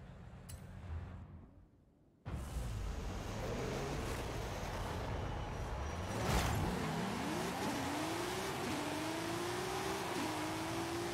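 A 2018 BMW M5 launches down a drag strip in Forza Horizon 5, the engine roaring up through rising revs with quick gear-change dips, steady and loud after a brief quiet moment at the start.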